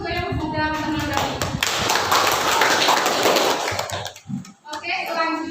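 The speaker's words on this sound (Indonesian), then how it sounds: "kasih aplaus untuk yang sudah menanggapi" A burst of lively clapping from participants in an academic supervision coaching session, loud and sustained for several seconds before fading into a few scattered claps.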